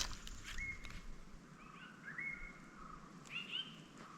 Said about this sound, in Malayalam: മഞ്ഞക്കിളിയാണ് കേട്ടോ വിളിക്കുന്നത്